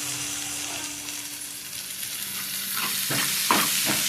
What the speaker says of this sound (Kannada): ನೋಡಿ ಇದು ಫ್ರೈ ಆಗಲಿ.